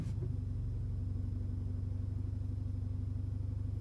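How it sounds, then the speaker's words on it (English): A 2016 Mercedes GLA 45 AMG idles with its performance exhaust valve open, giving a steady, close, deep pulsing rumble that holds evenly throughout with no voices over it. "So the valve is open because the idle is down."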